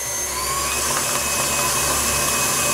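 An electric mixer runs on low through cake batter as milk is worked into a vanilla cake mix, giving a steady, even motor whir close by with no talking.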